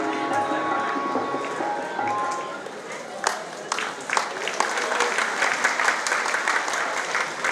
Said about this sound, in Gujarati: જોરદાર તાળીઓના ગડગડાટ વડે આપણે વધાવી લઈએ